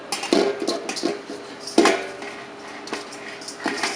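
Chilled sausage meat for Texas hot links dropped into a mixing bowl, with a few dull clanks and thuds against the bowl, close and moderately loud, no talking.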